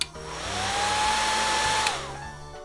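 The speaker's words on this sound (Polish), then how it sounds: "Suszarka." A hair dryer switches on and blows with a steady high-pitched whine and airy rush for about two seconds before shutting off.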